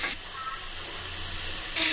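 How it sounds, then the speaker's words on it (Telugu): Soaked paneer pieces fry in hot oil in a pan, giving a steady, loud sizzling hiss that swells sharply near the end. "ఆయిల్లో ఒక 5 minutes ఫ్రై చేసుకోవాలి"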